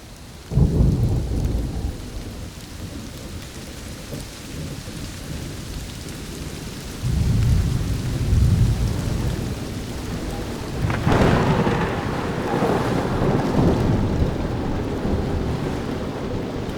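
Thunderstorm with steady rain on a surface, rolling thunder booming loudly near the start, again around the middle and late on, over a continuous hiss of rainfall with no talk.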